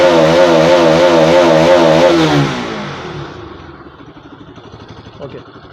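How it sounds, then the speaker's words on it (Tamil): A liquid-cooled motorcycle engine with a radiator being bled of an air lock runs loud with a high steady rev, then drops off to a low idle chug. "இப்போ நம்ம பைக்கை ஸ்டார்ட் பண்ணி செக் பண்ணிக்கலாம்."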